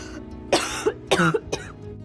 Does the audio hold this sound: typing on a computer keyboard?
no